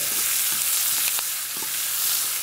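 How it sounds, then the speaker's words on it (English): Onions fry in a pot as the base for a one-pot brisket, a dense, loud, close sizzle with a few soft knocks of a spoon stirring them. No voice. "So onions go in. Just stir them around a little bit."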